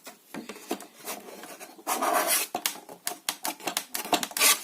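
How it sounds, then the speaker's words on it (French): A small ruler is rubbed and pressed over paper to flatten it inside a mini album box, making quick close scraping and rasping strokes in short irregular bursts, heavier in the middle. "une petite règle pour bien aplatir au fond, pour que ça rentre bien et pour que ça colle bien"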